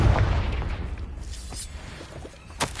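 A Confringo spell goes off in a wizarding video game as a deep, rumbling boom with a dull low-end blast that rolls on for several seconds, followed by a brief sharper pop near the end.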